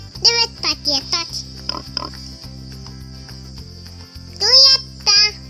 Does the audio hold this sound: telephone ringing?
no